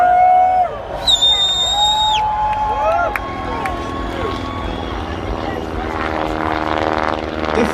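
A propeller aircraft flies in an air display, its engine drone shifting in pitch as it passes, with a commentator talking over it and crowd noise in the background.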